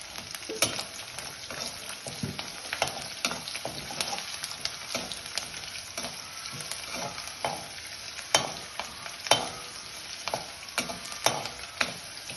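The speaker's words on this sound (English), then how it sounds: "Fry it for some time." Lilva beans (avarekai) with curry leaves and turmeric frying in a pan, a steady soft sizzle under repeated scraping strokes of a stirring spoon, close and continuous without talk.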